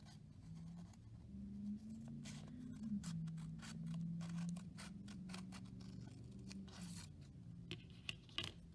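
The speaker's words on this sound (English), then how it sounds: "grab a pair of scissors, flip the model over, and you're going to cut to the center" Scissors snip into folded origami paper while a turtle model is made, a series of quiet, close, crisp cuts and rustles in a near-silent room.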